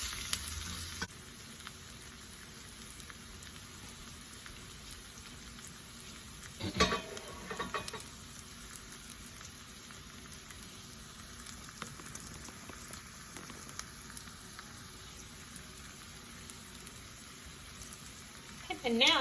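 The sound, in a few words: minced garlic frying in a skillet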